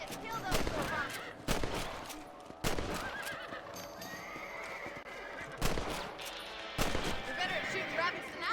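Rifle shots ring out in a Red Dead Redemption rabbit hunt, a few sharp cracks spaced several seconds apart over galloping hooves and horse whinnies, with in-game voices talking.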